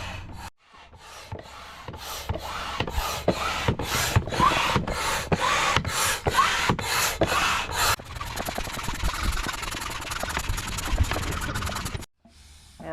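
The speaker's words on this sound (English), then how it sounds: "So you're going to pump up each side." A hand air pump inflates an Intex Excursion Pro K2 inflatable kayak with a regular series of loud, close rushing strokes, then a steadier hiss. No voices are heard.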